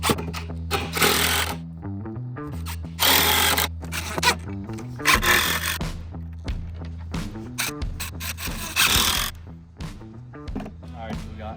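A power drill drives 3.5-inch screws into a wooden frame for a full-body life-size deer mount. It sounds in repeated bursts of high-pitched whirring and grinding, close and loud, with brief pauses between screws.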